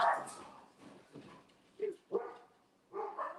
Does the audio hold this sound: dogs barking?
yes